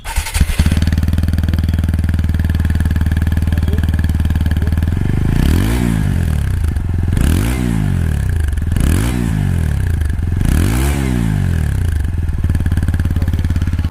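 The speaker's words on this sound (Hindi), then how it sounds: "इसका एग्जॉस्ट भाई इतना प्यारी साउंड करती है" A TVS Apache RTR 160 4V motorcycle idles with a steady, loud exhaust burble, then gets four or five sharp throttle blips that rise and fall in pitch, recorded close with no talking.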